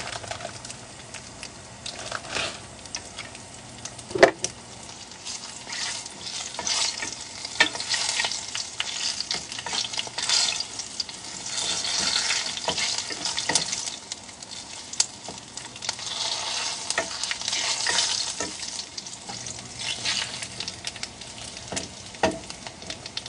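Thin dried fish (buwad) fries in a pan with a continuous crackling sizzle, broken by occasional scraping stirs and clinks, steady and close throughout.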